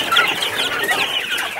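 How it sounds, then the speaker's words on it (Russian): Quail chicks and chickens in a warm brooder give off a dense, continuous mix of high peeps and soft clucks, steady and close throughout. "Перепелята с цыплятами."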